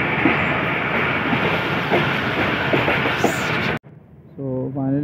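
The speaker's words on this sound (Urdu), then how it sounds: "نائن اپ علامہ اقبال ایکسپریس جو ہے اپنا پہلا اسٹاپ کرے گی ڈگ روڈ جنکشن" Allama Iqbal Express passenger train running on rails near Dhoog Road Junction, a loud steady rumble with rhythmic clatter from inside the coach, cutting off abruptly near the end as a faint voice-like tone follows.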